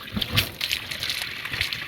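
Water trickles and splashes from a household supply just restored after a faulty pressure regulator was replaced, a steady close flow with small spattering bursts and no talking.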